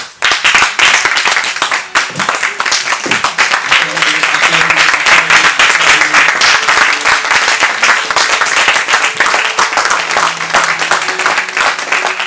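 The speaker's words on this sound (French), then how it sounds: "Acclame le Seigneur s'il te plaît." Church congregation applauding the Lord, sustained dense clapping from many hands that swells after a brief start and holds steady throughout, with scattered voices and shouts mixed into the crowd noise.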